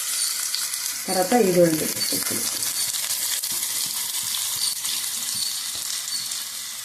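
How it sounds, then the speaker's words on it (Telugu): Onions, dried red chillies and cumin fry in a pan with a bright, continuous sizzle. A brief voice speaks at the start, then the crackle carries on alone. "ఇవన్నీ కలిసి ఇలాగైతే వేయించుకోవాలండి."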